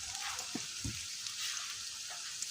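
Ginger-garlic paste and ground spices (turmeric, chili powder, bay leaf) frying in a pan for a Bengali fish curry, a soft continuous sizzle with a couple of brief low knocks from stirring.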